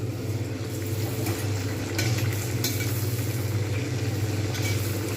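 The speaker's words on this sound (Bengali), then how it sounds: "ডুবো তেলে একটা একটা করে ভেজে নেব" Green pea kachori deep-frying in a pan of hot oil, a steady, dense sizzle running evenly throughout at moderate volume, with a few brief louder crackles and no voices.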